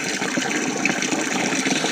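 Water gushing from a tap into a bucket, a loud, steady rushing splash close by with no speech.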